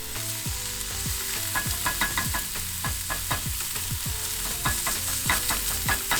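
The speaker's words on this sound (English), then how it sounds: "So once our onion and mushroom have browned just a bit and are very fragrant, then I'm gonna add in a little bit of the pork." Pork frying with onion and mushroom in a pan, a continuous close sizzle broken by quick, regular scrapes and clacks of a utensil tossing the food, no one speaking.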